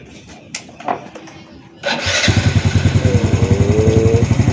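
After some clatter and handling noise, a motorcycle engine in Palembang, Indonesia, starts up and settles into a loud, close, steady idle with a regular thumping beat.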